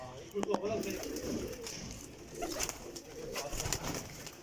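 Rampuri pigeons coo in a loose series of soft, low, throaty calls, close by, with someone talking over them throughout.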